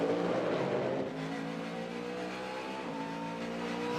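Race cars run the IMSA sports car race on the Detroit street circuit, several engines roaring together at once and close by, their pitch climbing and shifting steadily as the cars accelerate and pass.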